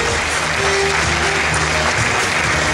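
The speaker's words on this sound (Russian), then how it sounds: "Прошу вас, аплодисменты." Audience at a KVN comedy championship final applauding, loud dense clapping throughout with steady tonal hum beneath it.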